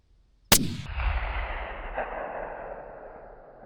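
A single close, sharp rifle shot is fired at a hunting range, its loud crack followed by a long rolling echo that fades out.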